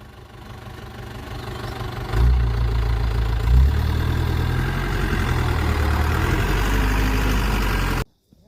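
A bore well truck's engine idles steadily and loudly nearby with a deep low rumble. It swells briefly twice, then cuts off abruptly near the end.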